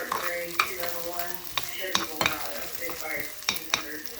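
Steak and onions frying in a pan, a steady sizzle broken by repeated sharp scrapes and clicks of a utensil stirring them, close and fairly loud, with no voices.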